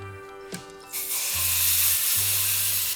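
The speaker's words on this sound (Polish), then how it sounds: "Nasza szynka pięknie się zmarynowała, to czas, abyśmy ją przysmażyli na patelni." Marinated ham fries in a little oil in a pan, giving a loud, broad, steady sizzle that rises after a quiet start and continues without a break.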